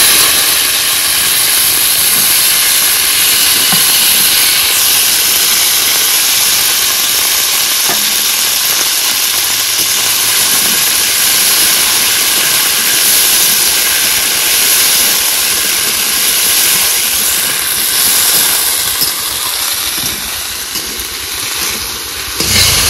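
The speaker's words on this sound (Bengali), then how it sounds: "ফোড়নে শিম বরবটি দিয়ে ভেজে নিলাম।" Yardlong beans and flat beans frying in hot spiced tempering oil give a loud, steady hiss and crackle that runs unbroken throughout with no voices.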